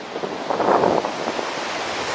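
Steady surf washing on a beach, a broad rushing swell that builds and eases, mixed with wind noise on the microphone; no voices.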